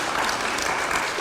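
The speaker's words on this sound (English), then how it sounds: "Let's give them a round of applause" Audience applause closing the first round of a candidates debate for Edmond's House District 39, a steady, even wash of clapping filling the whole moment without voices.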